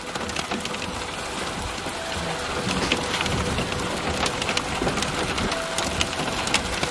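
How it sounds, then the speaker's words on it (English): Wind-driven hail and heavy rain pound surfaces during a severe Texas storm, a steady dense roar of impacts with scattered sharper pings, rising slightly in intensity midway through. "Getting a lot of wind-driven hail."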